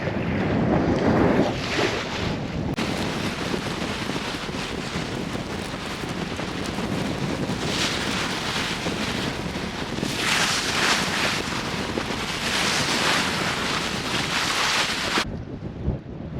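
Wind gusts across a sailboat out on Loch Ness, roaring and buffeting the microphone in a continuous, heavy rush mixed with water noise, swelling and easing with no talk.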